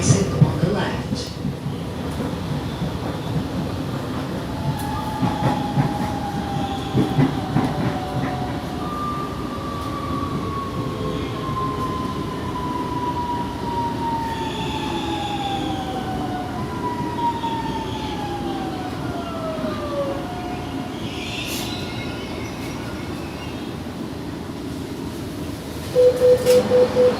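Inside a TUE Series 8900 commuter train, a steady rumbling interior drone with rising and falling motor whines and occasional clanks, a bright chime near the end, continuous and fairly loud.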